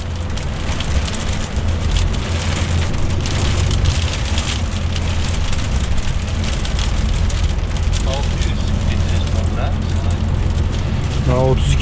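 Constant roar of strong wind buffeting a truck on a snowy, slippery road, a heavy low rumble with broadband rushing noise throughout, while someone talks inside the cab.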